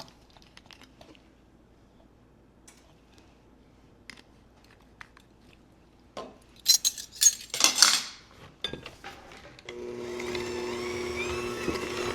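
Mashed bananas and vanilla are worked into banana bread batter in a bowl, with scattered utensil clinks, a burst of wet scraping and stirring, then a steady whirring mixer near the end, close and without talk.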